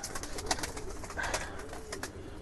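Pigeons cooing in a loft of highflyer and racer birds, soft repeated coos with faint chirps over a steady low background hum, fairly close.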